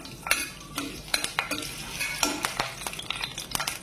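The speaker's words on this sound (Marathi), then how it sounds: "हे चांगलं भाजून घ्यायचे आपल्याला." Samosa filling with fennel seeds roasts in a pan while a spoon stirs and scrapes it, giving irregular clinks and scrapes over a soft, faint sizzle, close by with no talk.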